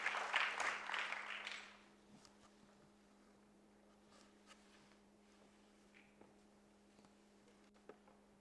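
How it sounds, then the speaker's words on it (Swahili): An audience applauds an award presentation at the launch of the TALTA logistics and transport professionals' association; a short burst of clapping fades out within two seconds into a quiet room with faint ticks and a steady hum. "naamini mtapiga makofi mengi anapopokea tuzo hii"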